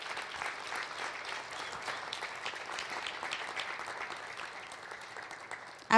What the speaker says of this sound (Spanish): Vamos a dar un aplauso más fuerte a nuestra hermanita Laura.